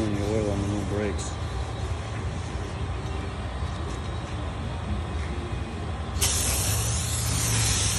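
Brake cleaner sprays in a steady, close hiss onto the front wheel hub of a 4WD Toyota Tacoma, continuous over workshop noise, then a louder, brighter burst of spray toward the end.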